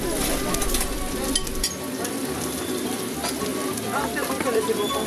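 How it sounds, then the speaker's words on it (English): Juices sizzle and bubble in the tray under a whole roast pig at a food spot in Otavalo, Ecuador. A loud, steady crackling hiss runs throughout, with voices faintly present. "the sizzling sounds of juices bubbling in the tray"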